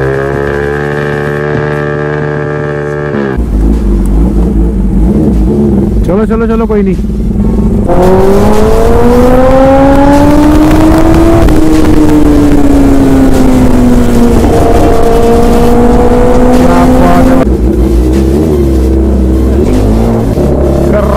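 A modified Yamaha R15 V4 motorcycle revs hard, its loud exhaust rising and falling through repeated throttle blips and long drawn-out pulls, close up, with someone briefly talking over it.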